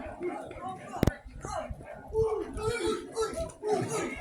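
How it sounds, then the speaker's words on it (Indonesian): A dog barks and yips several times amid nearby voices at an Indonesian Independence Day celebration in Krayan Selatan, Nunukan, with a sharp knock near the start and lively, overlapping chatter. "ada anjing mereka menggonggong."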